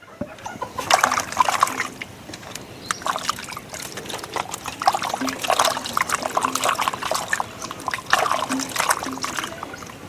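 Water is poured over peeled hog plums for washing, producing repeated trickling, splashing bursts over several seconds, close and moderately loud, with a faint rooster-like call in the background.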